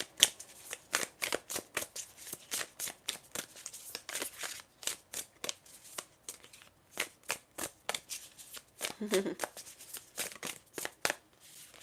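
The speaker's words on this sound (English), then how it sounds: "I just shuffled for a quick yes or no to your question" Tarot cards being shuffled by hand, a long run of crisp riffling bursts in a steady, fairly quick rhythm, close and clear with no talking over it.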